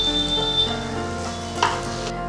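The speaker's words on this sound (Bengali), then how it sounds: "এবার আমি একে একে বাকিগুলো ভেজে নেব।" Bora fritters sizzle steadily in hot oil for a Bengali fish curry with potatoes, a continuous close frying hiss with a brief louder crackle partway through, and no talking.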